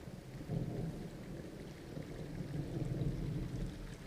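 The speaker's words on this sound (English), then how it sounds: "Hey, I heard some thunder. Yeah, I've got eyes on a storm out to the north." Low rumbling thunder from a storm in the video game Firewatch, rolling steadily under a bed of rain that runs the whole time, with swells that build and fade gently and no voices.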